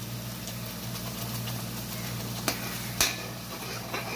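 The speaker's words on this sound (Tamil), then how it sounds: "இப்போ நம்ம தக்காளி கலவையை சேர்த்துக்க போகிறோம்." Tomato mixture hisses and sizzles steadily in a pan of frying fish curry, with a low continuous fry and a couple of sharp scraping knocks from stirring, no voices.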